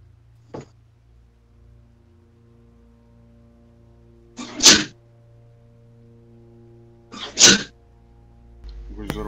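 Two loud sneezes burst out a few seconds apart, close to the microphone, after a small earlier click, with a faint low hum underneath and no other sound between them.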